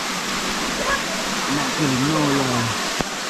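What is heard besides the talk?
river water flowing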